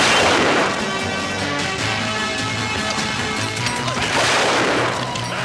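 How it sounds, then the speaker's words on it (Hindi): Loud, dense bursts of gunfire crackle continuously, with heavy booming impacts layered over a sustained low rumble and no clear pauses. "ये तो रियल में गोली चल रहा है"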